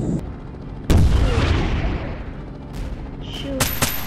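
Sharp, loud gunfire bursts and booming impacts in a helicopter combat video game, Airship.C, with one big blast followed by a long decaying rumble and a few more quick shots near the end.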